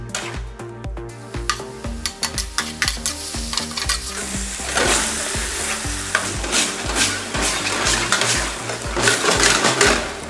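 Chicken masala cooked in a pan for a dhaba-style clay pot chicken recipe, with continuous sizzling and frying under rapid, rhythmic scraping stir strokes that grow louder and busier partway through.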